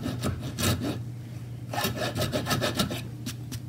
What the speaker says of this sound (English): So you can also take a rasp, make sure I'm on video here, or other type of forming file